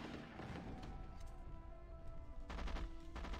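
Mortar fire and gunfire in the strategy game Rise of Nations, a dense fusillade of rattling shots and thumps over a steady, quiet battle din.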